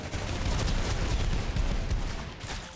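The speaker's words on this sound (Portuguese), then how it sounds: "Ó o próximo tiro aqui." Rapid volleys of gunfire in the video game ROUNDS, dense and loud, rattling almost continuously before easing off slightly at the end, with no voices.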